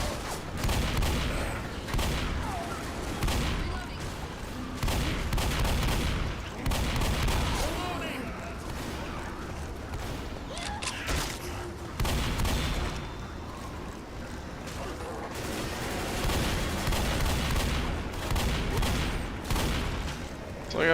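Dense, continuous bursts of gunfire and booming shots in the Left 4 Dead video game, loud and close, with a voice talking intermittently over the shooting.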